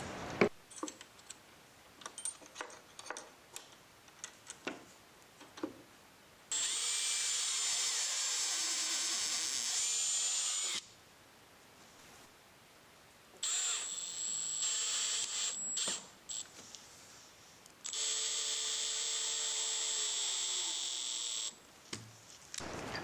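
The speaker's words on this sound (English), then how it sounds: "Now I need pilot holes for the base." A power drill whines through three sustained bursts, boring pilot holes for a battery base in a Chevy Colorado dual lithium battery setup, with quieter handling clicks between the runs.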